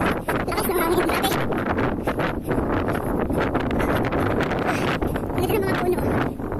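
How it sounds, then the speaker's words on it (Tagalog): Strong wind buffets loudly and continuously, roaring and gusting, with a voice talking partly buried beneath it. "Lakas ng hangin natin."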